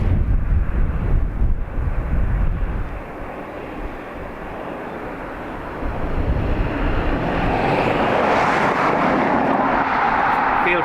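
Airplane landing or taking off at Dublin Airport, a broad distant jet roar blended with wind buffeting the microphone, dipping midway then swelling and brightening toward the end, with no talk.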